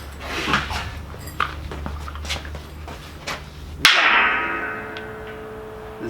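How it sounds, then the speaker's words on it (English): A welder tack-welds a metal frame for roll-away storage trolleys: one sharp crackling zap that trails off in a hiss, heard close after a stretch of quiet workshop knocks and taps. "And me my welder."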